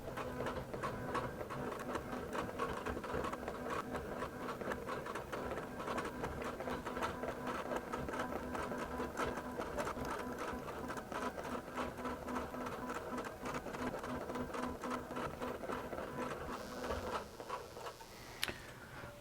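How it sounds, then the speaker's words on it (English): A QBOT V3 longarm quilting machine runs steadily and rapidly for a long stretch of appliqué stitching, its fast mechanical ticking unbroken, with a faint click near the end. "just stitch away as if it's just a regular"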